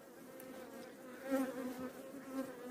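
Honey bees buzz as they are shaken off a hive frame, a close, continuous drone that swells briefly in the middle and again near the end.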